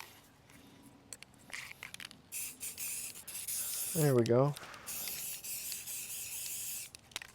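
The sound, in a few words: spraying satin bright white exterior spray paint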